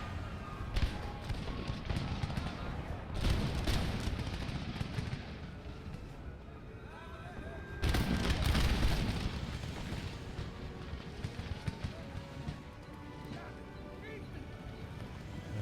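Artillery firing during a siege battle against Mysore in Empire Total War, with two deep, heavy booms about seven seconds apart rising out of a dense, rumbling battle din and a voice talking faintly underneath.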